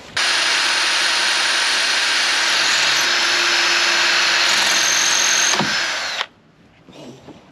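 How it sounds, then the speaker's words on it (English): A loud power drill runs continuously with a high whine for several seconds while drilling on a sailboat, then cuts off abruptly, leaving quieter background sounds. "Right, I'm now onto my 3rd drill bit."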